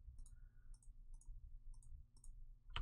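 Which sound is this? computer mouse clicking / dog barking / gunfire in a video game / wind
computer mouse clicking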